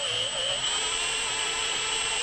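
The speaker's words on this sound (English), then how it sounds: "now I'm going to put the drill in reverse" A power drill running in reverse while tapping holes whirs steadily at a constant high pitch, running on its own without pauses.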